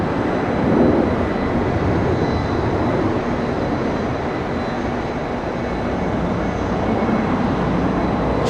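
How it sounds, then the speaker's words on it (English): A Boeing 747 airliner roars down the runway on its takeoff roll in Los Angeles, a loud, broad, steady engine rumble heard from a distance with no voices over it. "Let's go and enjoy that 747 now, taking off. On the takeoff roll."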